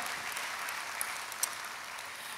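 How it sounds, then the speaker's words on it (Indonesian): A church congregation applauding for Jesus, steady fairly distant clapping from many hands, heard with no talk over it. "beri tepuk tangan yang paling meriah buat Yesus Tuhan"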